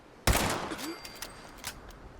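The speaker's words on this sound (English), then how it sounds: "Were you just shooting at like the wall for like an hour?" A single loud gunshot cracks against a wall in the video game Fallout 76, followed by a few fainter, decaying impacts and echoes.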